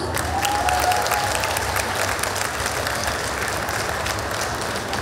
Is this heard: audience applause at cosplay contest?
yes